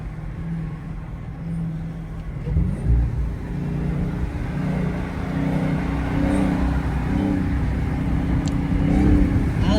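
Dodge Hellcat driving on a snowy, slushy road, its engine a steady low rumble with a swell of revving partway through, heard from close inside the car without talk.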